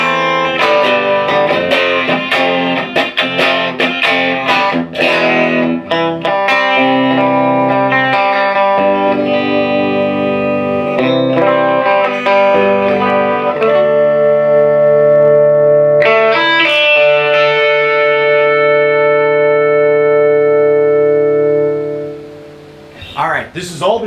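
A sustained, harmonically rich electric guitar through a Fender Deluxe or Princeton tube amplifier with a mildly overdriven tone, playing chords and notes continuously, then fading briefly near the end.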